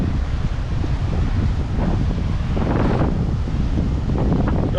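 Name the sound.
wind at the beach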